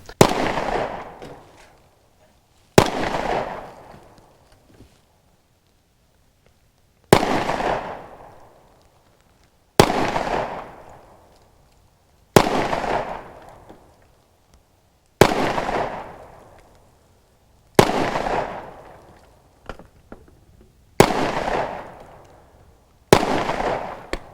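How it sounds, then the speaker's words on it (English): A Smith & Wesson M&P 10mm pistol fires nine single shots, each a sharp, loud, close crack that echoes and decays. The shots are spaced every two to three seconds, with quiet between them. "So I really do like the way this gun shoots."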